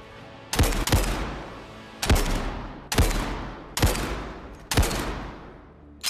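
Automatic WW2-era gun in the VR shooter Zero Caliber fires five loud, close bursts, each with a sharp crack and a decaying echo tail, spaced about a second apart.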